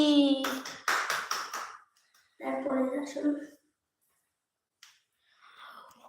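A small child claps several quick times, close by, while people talk over the claps. Quieter stretches follow with a little more chatter.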